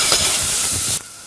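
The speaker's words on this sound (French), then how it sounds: "Une fois que vous avez mis vos oignons à l'intérieur de la casserole" Onions sizzling in a saucepan as they are stirred, a loud steady hiss with soft scraping pulses underneath that cuts off abruptly near the end.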